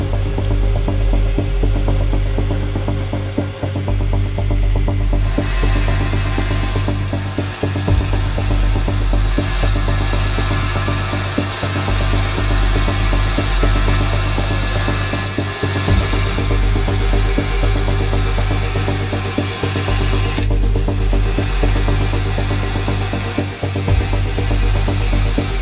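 A lathe turns down a metal part for a fire piston, giving a steady mechanical hum and whir that holds for a long stretch, with faint ticking and shifts in the cutting tone.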